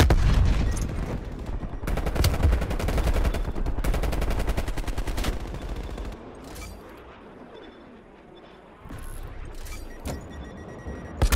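AK rifle gunfire in Call of Duty: Black Ops Cold War, loud rapid automatic bursts packed densely for several seconds before easing into quieter, scattered shots and then a final burst.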